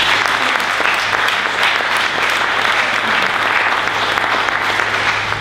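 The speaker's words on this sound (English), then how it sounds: "Round of applause, please." Steady, dense applause from an audience at a talk held in a Supreme Court hall, a continuous full-room wash of clapping with no gaps.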